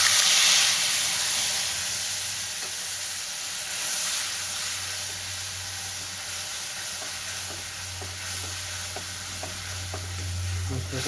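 Soaked spice paste hits hot oil already seasoned with dried red chillies, bay leaf and whole cumin, giving a steady close sizzle and hiss with occasional stirring scrapes for a Bengali katla fish curry with potatoes.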